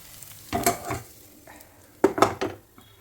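Ingredients being stirred into fried onion and chili in a pan, heard as two short bursts of spoon scraping and clatter against the pan, separated by a near-silent pause.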